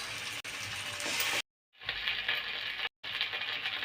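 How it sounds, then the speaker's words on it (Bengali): Garlic paste frying with onion in a pan for a sour yogurt egg curry, a quiet steady sizzle broken by two short gaps of silence. "আমি রসুন বাটা একটু পেঁয়াজের সাথে ভেজে নেব"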